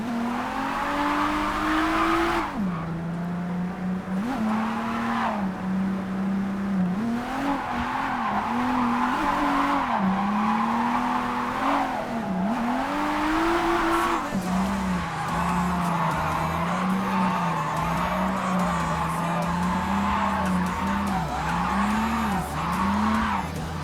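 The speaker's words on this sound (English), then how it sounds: "We just straight up don't have enough like speed to do proper drifting." Car tires squeal continuously while drifting in a video game, a loud wavering screech that rises and falls over a steady engine drone, with no talking.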